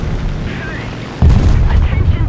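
A 50-kilogram bomb detonates in the War Thunder video game, a sudden heavy low boom with a rumbling tail that cuts in over aircraft engine drone, while someone talks faintly.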